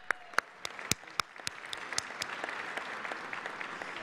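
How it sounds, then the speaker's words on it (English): Applause from an audience at a roast event, opening with a few sharp, separate claps that quickly swell into steady, dense clapping from a crowd of moderate size, heard close and without any talking. "Let's give them a round of applause."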